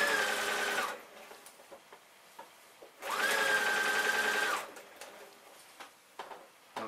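A sewing machine stitches jeans pocket bags in two loud, steady runs, about one and a half seconds each, with quieter handling noise and faint taps between the runs.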